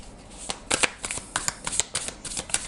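Oracle cards being shuffled by hand close up, a brisk run of crisp riffling flutters and slaps in quick irregular bursts, with no one talking.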